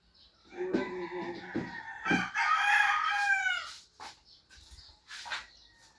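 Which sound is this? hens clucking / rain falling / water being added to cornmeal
hens clucking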